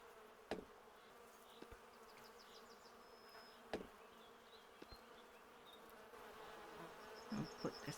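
Bees buzz around a hive in the video game The Beekeeper's Picnic, a soft steady drone with occasional louder passing buzzes and small clicking interface sounds, faint and close.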